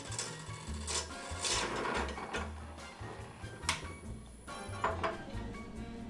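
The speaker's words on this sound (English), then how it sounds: "For a more artisanal look, we're gonna have Zane here on the lathe" Lathe carving into a pumpkin in a workshop setting, giving a close, uneven grinding and rasping scrape with rough rubbing bursts and a few sharp knocks, moderately quiet.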